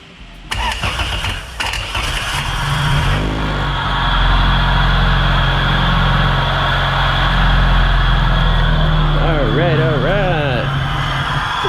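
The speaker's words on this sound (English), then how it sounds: "Maybe it needs to be idled up just a smidge, because it's not wanting to stay idling too well" A B20B-swapped Honda CRX Si engine starts and then idles roughly, struggling to stay running, with a steady low rumble close by while a person talks over it.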